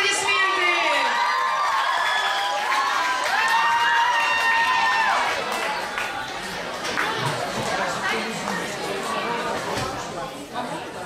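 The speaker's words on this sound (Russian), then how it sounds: "Бурные аплодисменты." Crowd noise at a camp counselors' concert, with cheering, whoops and children shouting sustained loudly throughout, voices calling over the hall.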